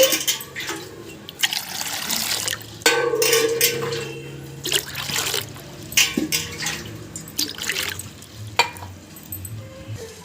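Four glasses of water are poured and splashed in several separate bursts, close by, with short pauses and clinking between pours.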